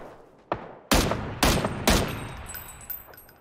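Gunfire in the video game PUBG: three loud, sharp shots in quick succession after a fainter opening crack, each trailing into a ringing decay, with quieter pops afterward.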